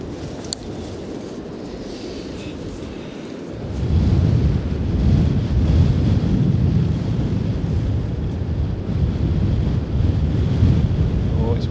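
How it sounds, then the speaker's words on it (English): Strong wind buffets the microphone in a constant heavy rumble that grows louder after a few seconds, with no other sounds standing out. "Oh, it's windy."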